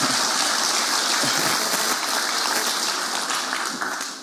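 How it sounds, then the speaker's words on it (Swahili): A large audience applauds loudly and continuously, a dense wash of clapping that holds steady and then tapers slightly at the end. "tumpigie makofi ingine tena"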